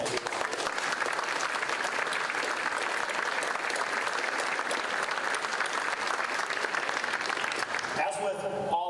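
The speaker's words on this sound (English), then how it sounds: "please join me in a round of applause for what they do for us on a daily basis." Audience applauding at a Duluth State of the City address, steady dense clapping filling the hall for several seconds before fading out at the end.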